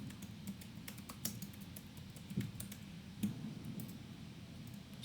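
Quiet, steady typing on a computer keyboard, with soft, rapid key clicks at an irregular rhythm and no voices.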